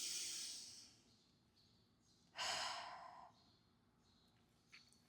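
A long, breathy exhale during a rib cage breathing drill, preceded by fading breath noise; the main exhale is a clear, close airy rush lasting about a second, with soft breath sounds after.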